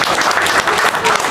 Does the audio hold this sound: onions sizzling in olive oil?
no